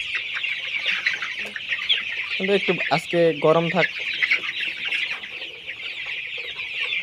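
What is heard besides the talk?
chickens clucking at feeding time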